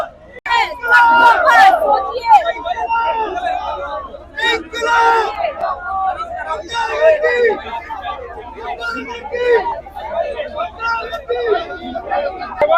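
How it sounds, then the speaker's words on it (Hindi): A large protest crowd in the middle of a road with seated wrestlers keeps up loud, continuous slogan chanting of Inquilab Zindabad, voices blending into a dense roar with shouted bursts throughout. "इनकलाब जिंदाबाद के नारे लगा रहे हैं"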